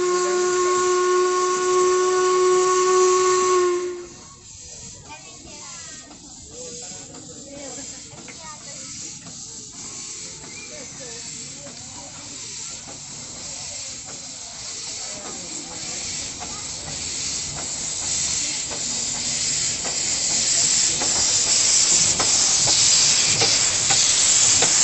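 Narrow-gauge industrial railway steam locomotive departing from the Mladějov line: a long steady whistle opens, then continuous hissing steam and chuffing rumble grow louder and closer, with faint voices in the background.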